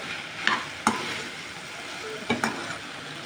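Okra fry in a pan gets stirred after red chili powder and turmeric go in, with a low continuous sizzle and four sharp scraping strokes of a spoon against the pan.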